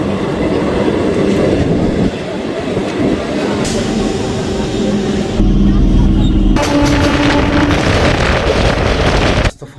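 A passenger train runs on an evening trip home, with a continuous loud rumble, rattle and wind buffeting close by, changing in tone partway through as the carriage noise shifts.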